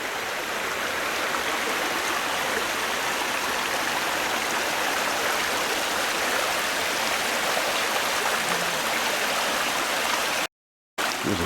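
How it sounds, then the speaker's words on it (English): Creek water flows steadily through thick bush in wild forest country, a continuous broadband rushing and gurgling close by, interrupted only by a brief dropout near the end. "Go across this creek."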